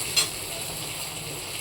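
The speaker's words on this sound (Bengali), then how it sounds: "বেগুনগুলো প্রায় ভাজা ভাজা হয়ে গেছে।" Eggplant pieces frying in a little oil and being stirred in a home kitchen, a soft continuous sizzle with a brief scrape of stirring near the start, quiet and close.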